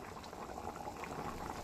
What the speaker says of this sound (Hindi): ये फिश करी पानी गर्म हो चुका है, उबल चुका है